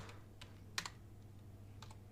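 Typing on a computer keyboard, a few scattered keystrokes in short clusters, quiet and close, with a steady low hum underneath.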